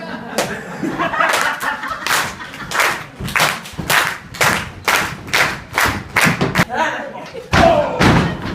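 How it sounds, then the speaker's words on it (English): A wrestling crowd at a live show claps in loud, rhythmic bursts, sharp smacks repeating roughly every half second with voices shouting between. "This is the point where they start to clap"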